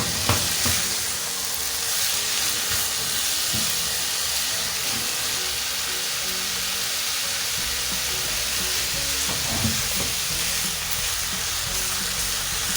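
Syrian kibbeh frying in a pan just after being turned, a steady loud sizzle and hiss of hot oil carrying on without a break, with small spits and pops scattered through it and no talking.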